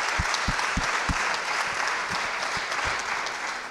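Audience at a rehabilitation congress closing session applauds a departed volunteer, a steady dense wash of clapping from a large room with a few sharper nearby claps standing out early on.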